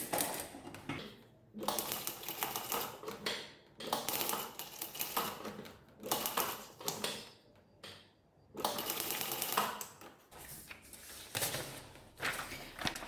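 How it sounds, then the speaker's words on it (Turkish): A domestic sewing machine stitches in short stop-start bursts, its needle making a busy rattling chatter. The runs of a second or two are separated by brief pauses, and the sound is close but fairly quiet. "Böyle kısa kısa durarak dikerseniz her türlü dikişi dikebilirsiniz."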